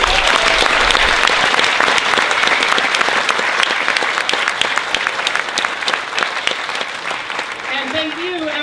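Sustained, loud audience applause fills the room at a 50th anniversary gala for the Fine Arts Work Center honoring Ai Weiwei, a dense steady wash of many hands clapping that fades slightly toward the end.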